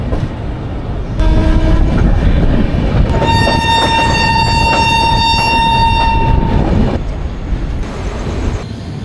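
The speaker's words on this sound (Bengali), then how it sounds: "নির্ধারিত সময় 10:40 আমাদের ট্রেন ছেড়ে দিল হাওড়া স্টেশনের 18 নম্বর প্ল্যাটফর্ম থেকে" A long-distance train pulls away from platform 18 at Howrah station with a loud, steady rumble and wheel clatter. Its horn sounds once briefly, then blares in a long sustained blast over the noise.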